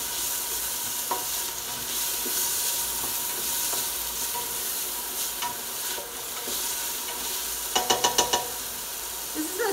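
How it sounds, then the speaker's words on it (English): Onions and garlic sautéing in olive oil over medium-high heat, a steady close sizzle running throughout with a few stirring scrapes and a brief clatter of utensil taps near the end. "I'm just going to saute the onions and the garlic"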